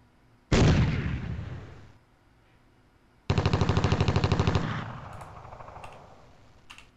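A gun firing in the WinSPMBT wargame: a single loud blast that decays, then after a pause a rapid burst of evenly spaced shots fading out, with no talk.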